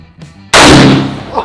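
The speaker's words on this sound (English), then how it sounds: "you'll shoot this with the M1 Garand" A single loud, close M1 Garand rifle shot bursts out and rolls into a decaying boom, preceded by a faint sound and followed by a short exclamation.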